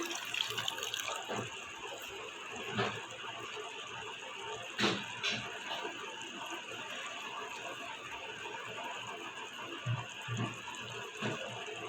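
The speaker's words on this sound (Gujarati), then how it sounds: "હવે જો આ પાછું ઉકળવા માંડ્યું છે" Paneer balls boil in sugar syrup in a pot while making rasmadhuri sweets, giving a close, steady bubbling hiss with scattered soft pops and splutters throughout.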